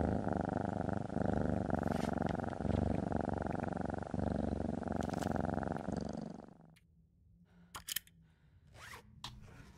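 Cat purring in The Long Dark survival game, a steady rumbling purr close up for several seconds that drops away, leaving quieter scattered clicks and rustles.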